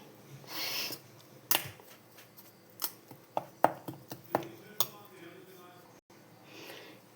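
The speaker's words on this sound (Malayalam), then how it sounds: "നല്ല പോലെ മിക്സ് ചെയ്യുക" A coffee powder hair pack being stirred in a bowl, giving a run of sharp clinks and scrapes of the spoon against the rim, close and fairly loud, with brief soft noises between the strokes.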